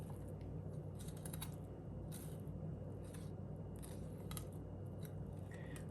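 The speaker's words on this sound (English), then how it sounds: "I'm just using a chef's knife here." A chef's knife cuts through a fish being scored for sweet and sour squirrel fish, making faint, irregular crisp snips and scrapes against a quiet kitchen hum.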